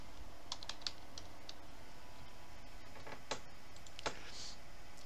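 Typing on a computer keyboard, a quiet run of close, sharp key clicks in short uneven bursts over faint room hiss, with no talk.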